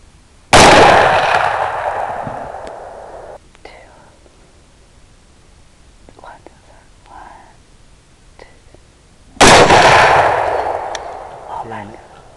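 Two loud rifle shots during a nighttime thermal hog hunt, several seconds apart, each a sharp crack with a decaying echo, with quiet whispered talk in between.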